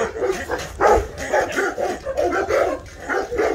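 Dogs barking repeatedly at a Rottweiler breeding kennel, a steady run of loud, close barks and yips with short gaps between them.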